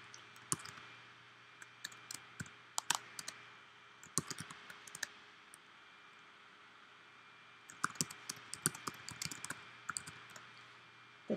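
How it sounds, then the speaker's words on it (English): Sharp computer mouse clicks while working in a spreadsheet to rename data tabs for a graph, coming in irregular bursts of close, crisp taps with quiet pauses between them and no talking. "by just clicking on that tab,"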